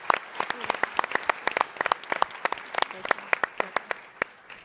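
Audience applause at a startup pitch competition, sparse individual claps from a modest crowd, sharp and fairly close, continuing steadily for a few seconds before thinning out.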